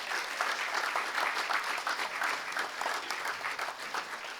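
Steady applause from the audience at a municipal sports awards ceremony, the Ravne na Koroškem athlete of the year event, dense clapping holding at an even level throughout with no talk over it.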